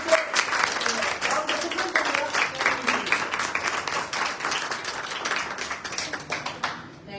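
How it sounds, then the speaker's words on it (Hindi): An audience at a beauty products demo applauds warmly to welcome a beauty expert, with steady, dense clapping that lasts several seconds before fading out at the end. "आपकी भरपूर तालियों में"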